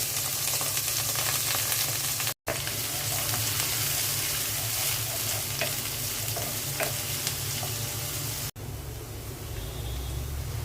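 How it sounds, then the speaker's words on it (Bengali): Onions fry in oil in a pot, giving a loud, continuous close-up sizzle with faint stirring scrapes, broken by two abrupt momentary dropouts; no one speaks. "পেঁয়াজ দিয়ে দিচ্ছি তেলের মধ্যে।"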